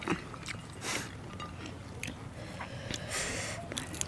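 Close, wet mouth sounds of someone chewing and biting into skewered fish, soft squishes and small crunches running steadily over a murmur of background noise.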